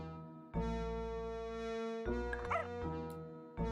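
A dog in the game Professor Layton and the Curious Village gives three drawn-out, tonal yelping barks, each held for a moment, with short gaps between them, fairly close and clear.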